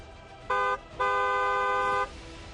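Car horn sounding two loud steady honks alone, a short blast followed by a longer held one, in a Bhopal news report.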